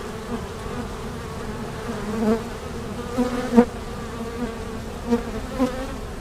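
Many honey bees from a swarm buzz in a dense, steady drone close by, with individual insects whining louder as they pass near.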